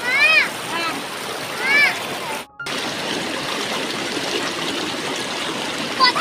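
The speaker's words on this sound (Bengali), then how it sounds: "এই যে এখন বাচ্চারা এসেছে স্নান করতে। এই যে দেখো সবাই স্নান করছে" Children bathing and splashing in a cool stream at the foot of a hill on a summer picnic, steady rushing water with splashes, a few high voices calling out over it.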